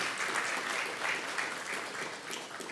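Steady applause from an audience at a foundation EdTech fellowship demo day, many hands clapping continuously and fairly evenly throughout with no break.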